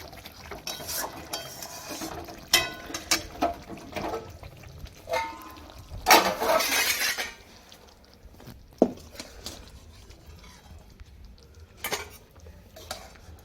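Cooked Bengali doi katla, a yogurt-based rohu fish curry, is poured out of the cooking pot, with scattered clinks and scrapes of utensils against metal and a brief wet slosh midway, fairly close.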